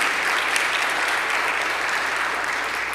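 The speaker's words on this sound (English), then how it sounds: "I'm going to ask if you would give a round of applause to the strategic planning team and the work that they've done" Audience at a college State of the College forum gives a sustained round of applause, thick even clapping from many hands, loud and unbroken throughout with no talking over it.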